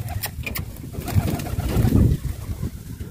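Low, throaty cooing from several pigeons at a pigeon-flying contest, overlapping and swelling in the middle, with some higher chirps and background noise.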